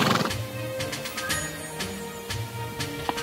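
Tito, a musketeer's horse, gives a loud, close whinny with a rising, wavering neigh that carries through most of the clip, followed by softer snorting sounds.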